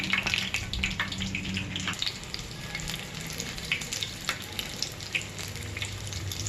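Bajji chilli fritters frying in hot oil, a loud, close, steady crackling sizzle with small pops and bubbling throughout, no voices.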